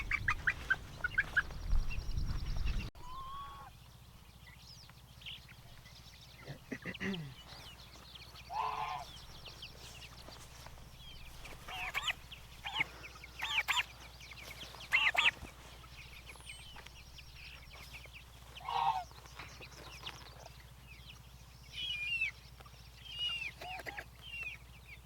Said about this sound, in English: then we'll head over to Paul's coop and I'll show you what he does with his birds